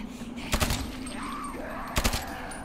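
Two short bursts of rapid gunfire from a gun in the video game Dying Light, about a second and a half apart, loud and close, with a low hum between them.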